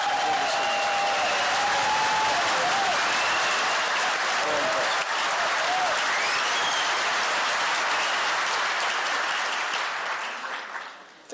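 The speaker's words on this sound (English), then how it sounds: "would you give all of them a round of applause?" Sustained, loud applause from a large audience at a political rally fills the hall for about ten seconds, with cheers and scattered whistles mixed in, then thins out toward the end.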